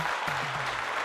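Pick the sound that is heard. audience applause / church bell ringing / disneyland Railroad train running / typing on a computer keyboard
audience applause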